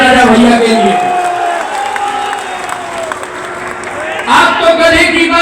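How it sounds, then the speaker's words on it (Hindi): A large crowd at a Hindu religious assembly cheers and applauds loudly, with whoops and shouting swelling at the start, easing under continuing noise, then surging again near the end. "जोरदार तालियां बजाइए राजा भैया के लिए।"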